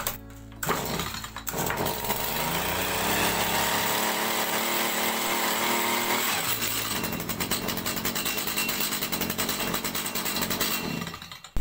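A two-stroke petrol hedge trimmer engine starts and runs loud and close, a buzzing rasp that holds steady and then revs higher and rougher before cutting off at the end, with no talking.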